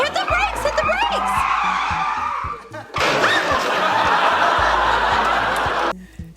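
Loud tire screeching and skidding across two long bursts, with a low engine rumble beneath and brief laughter and voices mixed in.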